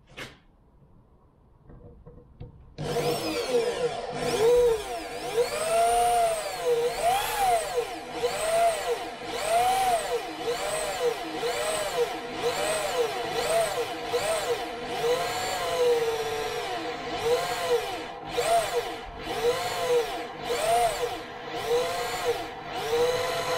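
A power drill drills a pilot hole in a 1971 Range Rover part, running steadily after a short quiet start, its motor pitch repeatedly rising and falling as it bites into material, loud and close.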